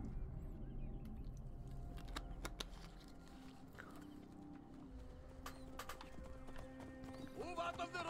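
A horse gallops with steady rhythmic hoofbeats in Assassin's Creed Origins, moderately faint under someone talking, with keyboard tapping and a whinny near the end.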